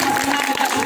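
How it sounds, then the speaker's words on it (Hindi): An audience at a community gathering in Ramnagar, Ambedkar Nagar gives a brief, loud burst of applause with some crowd noise mixed in. "एक बार जोरदार तालियों से आपका स्वागत करिए।"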